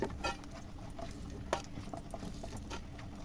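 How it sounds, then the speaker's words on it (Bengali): Crisp fried jute leaf fritters knock and clatter against a plate in a quick run of small, close taps and rustles, without any talking. "বুঝতেই পারছেন থালার মধ্যে কিরকম আওয়াজ হচ্ছে, তার থেকেই বোঝা যাচ্ছে যে কিরকম মচমচে বড়াগুলো"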